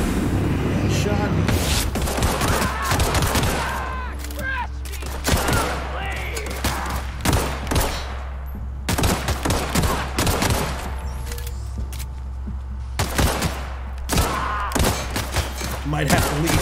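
Gunfire in the sci-fi shooter The Outer Worlds: repeated sharp shots and bursts in irregular clusters across the whole stretch, loud and close, with someone talking between volleys.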